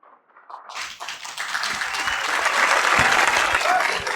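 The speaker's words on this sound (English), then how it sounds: "A round of applause once more for Mrs. Onodipe." A conference audience breaks into applause for a speaker, rising quickly from quiet into steady, full clapping that holds loud through to the end.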